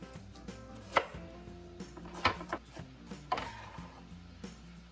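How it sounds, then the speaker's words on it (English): Knife chopping through an onion on a cutting board, a series of sharp, close thuds spread irregularly over a few seconds against a quiet kitchen background. "Chop and peel the onion."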